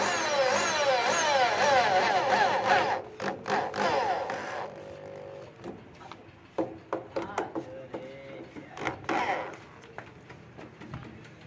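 Self-tapping screws are driven into a 12-volt switch board, with a run of short ratcheting, whirring tool bursts and clicks. Someone talks over the opening seconds.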